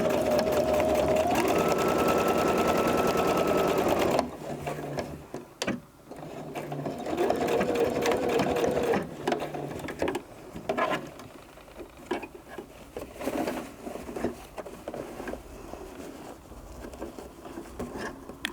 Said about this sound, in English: I'm just gonna sew between the 2 channels, back tacking.